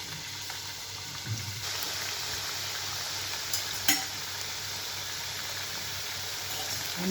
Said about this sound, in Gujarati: ધીમો તાપ રાખી અને આપણે શક્કરપારાના પીસીસ અંદર નાખીશું